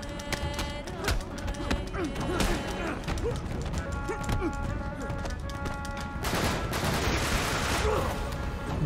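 Bursts of light machine gun fire rattle through a firefight in Uncharted 3, loud and close, mixed with impacts and crashes, in rapid repeated volleys that run almost continuously.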